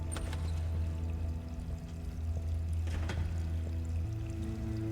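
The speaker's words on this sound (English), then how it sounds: "You can like hear water noises in the background as well." Water in the Harold Halibut game world, a continuous low watery pour with a steady hum beneath, constant and close, no talking.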